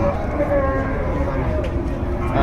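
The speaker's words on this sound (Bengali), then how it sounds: "দেখতে পাচ্ছেন সুন্দর সুন্দর দেশাল সার গরু" Native cattle and bulls at a busy rural cattle market in Bogura, lowing and mooing close by over a constant, dense din of the crowd and livestock.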